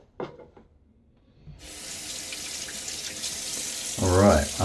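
Lukewarm tap water runs steadily into a sink from about 1.5 seconds on, a broad hiss that grows slightly louder near the end, where a brief splash or voice-like sound rises over it; a few soft knocks come before the flow starts.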